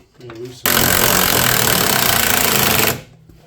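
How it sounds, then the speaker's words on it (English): Impact tool driving a track tension bolt on a Vermeer mini skid steer: a loud, continuous rattling hammer burst of about two seconds, close up, with brief voice and shuffling before it. "I'm going to tighten this bolt up, and it should tension it up."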